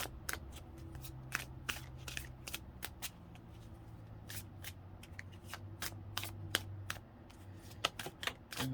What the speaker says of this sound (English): Oh, these cards are so easy to shuffle.